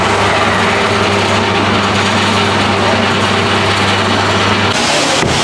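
A Hong Kong Apollo-style soft-serve ice cream machine runs at a hot outdoor stall in Launceston, Tasmania, giving off a steady motor hum that holds for several seconds and then cuts off abruptly near the end.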